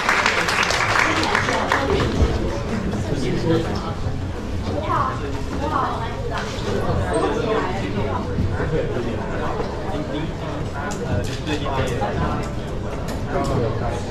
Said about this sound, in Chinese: 那我们在热烈的掌声欢迎我们关小姐来我们授课